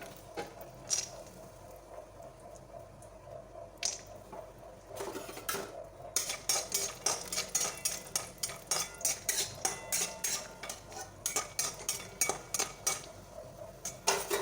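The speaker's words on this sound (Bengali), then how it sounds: "এবার আমি চিনে বাদামগুলো দিয়ে দিলাম" Peanuts tossed into a pan while making suji gujiya, rattling and pattering against the metal in quick repeated bursts of clinking, growing busier and more rhythmic, fairly quiet and with no talk.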